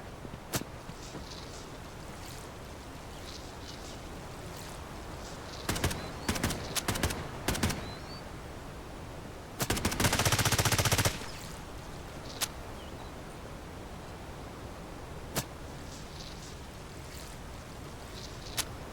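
M4A1 rifle fire in the shooter game Delta Force Hawk Ops: scattered single shots and short bursts, with a longer sustained burst near the middle and a few isolated sharp cracks later, loud over a steady background hiss.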